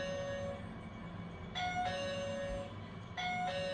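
A Kaadas Q9 FVP smart lock doorbell chimes twice, a bright two-note electronic ding-dong sounding near the start and again near the end over a faint steady background hum.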